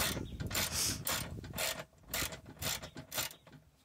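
A ratchet loosens a bolt on the bottom of an RV swivel seat, producing rhythmic bursts of close, crisp clicking that repeat several times with short gaps between.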